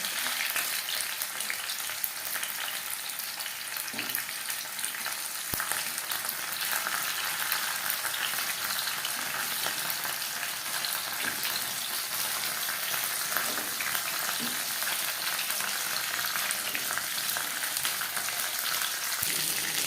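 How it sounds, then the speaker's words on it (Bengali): Chicken satay pieces fry in hot oil in a pan over a medium flame, giving a steady, dense sizzle that holds at an even level from start to finish, with no voices. "তিন চারবার উল্টে পাল্টে ভেজে নিয়েছি"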